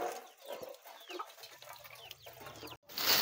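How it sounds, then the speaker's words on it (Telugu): Several farmyard chickens cluck and call in quick, overlapping bursts as they hurry toward dishes set outside, close and moderately loud with brief scuffling, then a short gap and a sharper noise at the end. "అట్లా ఉంటుంది సౌండ్ని బట్టి అవి కోళ్ళు అటు ఉరికొస్తాయి."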